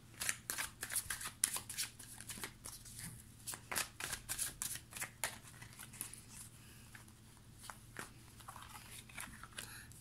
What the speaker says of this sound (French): Je vais tirer 3 cartes pour vous et 3 cartes pour votre autre.